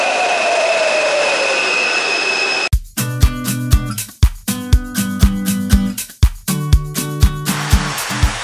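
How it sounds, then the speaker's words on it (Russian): A Warsaw metro train arrives at a station. It begins as a steady electric whine, then loud rhythmic clacking of wheels over rail joints repeats in regular bursts as the cars roll past close by. "Поезда есть как старые, так и новые."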